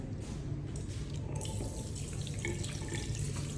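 A sink tap runs steadily in an office pantry as hands are washed, a continuous close splash of water with faint drips and no voices.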